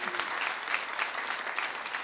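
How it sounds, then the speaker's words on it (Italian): A live audience at a Neapolitan talent show applauds all six contestants, a dense, steady wash of clapping that stays even and close throughout, with no talk over it. "E vogliamo farlo un applauso a tutti e A tutti sei?"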